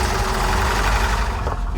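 An AQ171 turbo boat engine runs close and loud with an uneven, fluttering rumble, its steady drone broken by slight wavers and a sharp click near the end.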